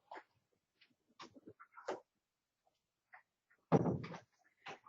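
A door is pulled shut indoors with a single thud near the middle, among quiet scattered bumps and shuffles, in a room with a slight echo.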